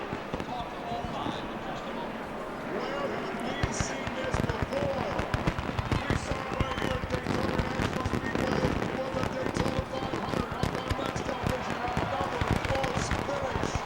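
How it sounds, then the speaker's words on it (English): Fireworks burst over the 2007 NASCAR Pepsi 400 on 4th of July weekend, a dense, continuous crackle of loud pops and bangs that runs throughout while commentators talk over it. "Fireworks on this 4th of July weekend."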